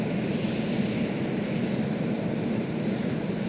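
Aircraft engines in the video game Stormworks throttling down, a steady, loud, unbroken roar of engine drone that holds even through the clip without any voices.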